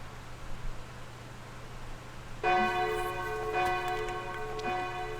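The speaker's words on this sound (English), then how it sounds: "After the bell signals the end of class" In a video game, a school bell rings to mark the end of class. It starts abruptly partway through as a sustained, resonant ringing tone over a faint background hum.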